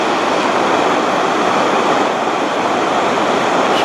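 Espelandfoss waterfall in Norway roaring as a loud, dense, unbroken rush of falling water, steady throughout with no talking.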